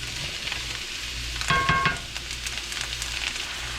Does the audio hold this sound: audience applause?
no